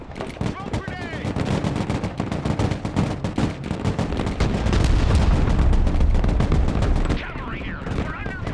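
Dense gunfire and explosions in the Broken Arrow game during an airbase raid: rapid machine-gun bursts and shots give way to a heavy rumbling blast mid-clip, with radio voice chatter over the combat.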